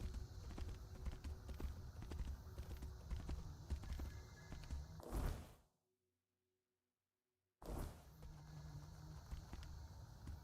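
Steady rhythmic horse hoof clip-clops at a walking pace in the video game Tainted Grail: Fall of Avalon, cut off by a couple of seconds of silence before resuming, with faint electronic tones.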